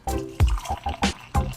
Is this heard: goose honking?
no